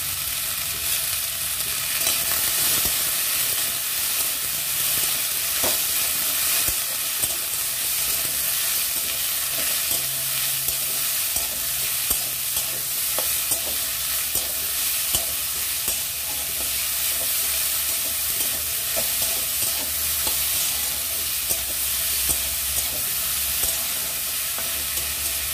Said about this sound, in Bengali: লবণ হলুদ দিয়ে একটু নাড়াচাড়া করে ঢাকা দিয়ে দেবো